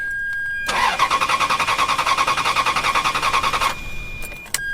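A Ferrari with a failed engine computer cranks without firing, a fast, steady chug of the starter lasting about three seconds at close range, then cutting off, followed by a couple of sharp clicks.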